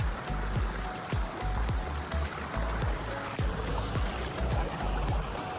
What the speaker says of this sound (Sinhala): පිරිසිදු වතුර පාරක් ගලගෙන යනවා